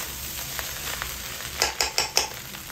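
Rice stir-fried in a small wok for Filipino-style fried rice, with a steady sizzle and a run of four sharp spatula scrapes and clacks toward the end, close and fairly loud.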